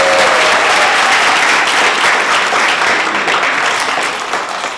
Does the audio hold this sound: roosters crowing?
no